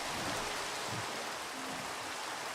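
Steady rain pours in a city-building video game, an even, dense hiss of falling water with no distinct drops or pauses, fairly faint and uninterrupted throughout, with no voices.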